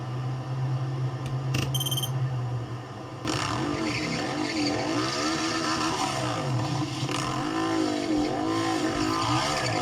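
A motorcycle and then a car drift, heard as loud, continuous engine roar with revving swells and whining pitch sweeps. The sound is dense and sustained, with no speech.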